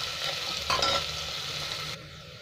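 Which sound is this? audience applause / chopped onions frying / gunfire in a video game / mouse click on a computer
chopped onions frying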